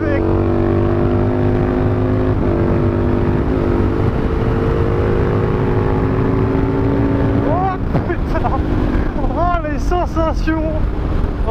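A motorcycle accelerating hard, its engine roaring loud and close under heavy wind noise, with excited exclamations from the rider breaking in near the end.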